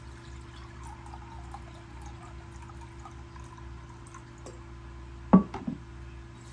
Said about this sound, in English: I'm going to measure out 1 cup of water.